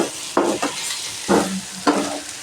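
A pan of frying paste with crushed chili sizzles as it is stirred, with three or four distinct scraping, hissing bursts close by and a quieter sizzle between them.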